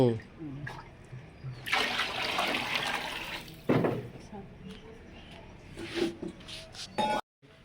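Water gushes and splashes into a pan of fried cashews and raisins for rava kesari in a strong, rushing pour, with clatter and scraping between bursts and a quiet spell near the end.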